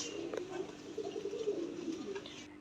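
A pair of Ethiopian murasal fancy pigeons at a breeding farm coo softly in low, throaty, continuous murmurs, fairly faint with light background noise and no talking.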